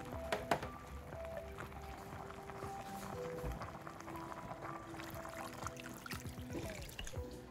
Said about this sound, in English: I'm going to use water to rinse inside.